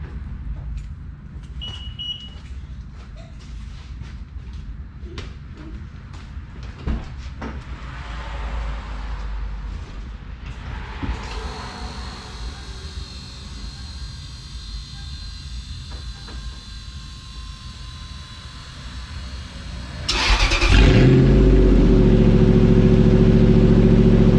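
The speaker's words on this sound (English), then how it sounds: "let me just give you guys a cold start" A Lexus GX470 with a new Y-pipe exhaust cold starts: a long stretch of grinding engine cranking and mechanical noise, then near the end the V8 catches and settles into a loud, steady, throaty idle close by.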